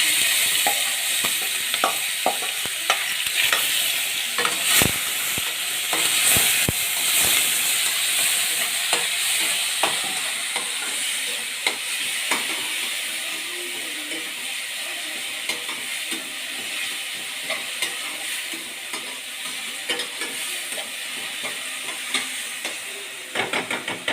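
Asafoetida, curry leaves and a tomato and green chilli paste sizzle in hot oil, giving a steady bright hiss with frequent sharp spits and pops, close up, with no talking.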